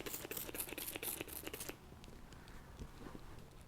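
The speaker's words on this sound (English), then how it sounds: "So I'll simply spray around the isopropyl now." Isopropyl alcohol sprayed by hand onto a Jayco Swan camper roof during resealing, a quick series of close, hissing spray bursts that then drop to quiet, faint rustling and handling noise, with no talking.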